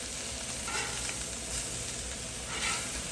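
New York Strip steaks sizzle on a Blackstone flat-top griddle, a steady close hiss with soft crackles and a few brief louder surges, no talking.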